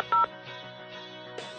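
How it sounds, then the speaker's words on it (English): Phone keypad tones sound as a PIN is entered to join a Microsoft Lync meeting call. One sharp, loud beep comes early, followed by quieter tone pulses over a steady background hum. "I'll need to enter my PIN."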